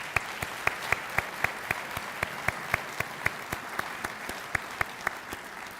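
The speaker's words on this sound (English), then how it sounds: "how about join me in one last round of applause." Sparse, steady clapping at a US Air Force change of command ceremony, individual claps ringing out in an even rhythm against a quiet room, thin and somewhat distant.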